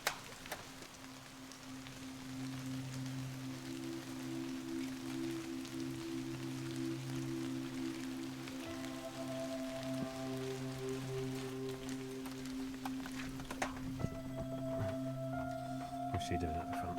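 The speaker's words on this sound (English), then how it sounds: "We're under a tree, so it's still raining." Rain patters steadily on a camper van parked under a tree in Scotland, a dense soft hiss that goes on throughout, with steady low tones running beneath it and scattered sharper drips toward the end.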